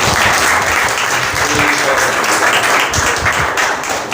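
A church congregation claps loudly in sustained, dense applause for several seconds, with a voice faintly underneath.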